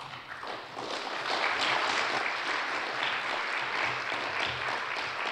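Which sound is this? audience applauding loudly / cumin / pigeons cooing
audience applauding loudly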